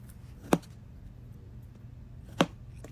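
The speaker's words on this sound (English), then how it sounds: "So here I am chopping them up." Two sharp, isolated chops of a knife through strawberries on a board, about two seconds apart, fairly quiet against a low background hum.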